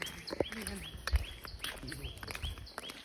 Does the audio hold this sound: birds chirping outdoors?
yes